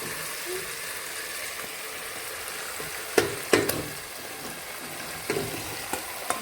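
Chicken pieces fry in hot oil and ghee in a pan for homemade chicken mandi, a constant close sizzle broken by a few louder splashy bursts midway and near the end.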